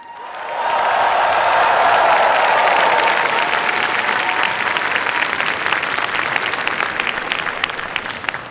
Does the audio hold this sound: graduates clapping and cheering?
yes